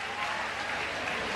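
Audience in a church applauding, a dense steady patter of many clapping hands filling the room for a brief moment.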